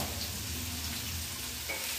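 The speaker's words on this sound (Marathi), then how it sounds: "या तेलामध्ये मी कांदा टाकला." Onion pieces dropped into hot oil give a steady, close sizzle and crackle that holds evenly for a couple of seconds, with no voices over it.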